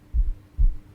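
Two slow, deep heartbeat thumps sound close and muffled, evenly spaced, like blood pumping, with no voice.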